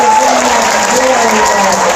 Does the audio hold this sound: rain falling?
no